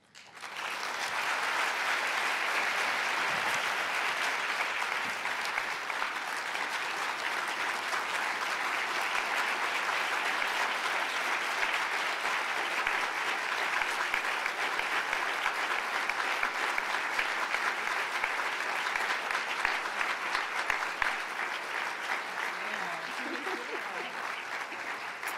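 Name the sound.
audience applause for panel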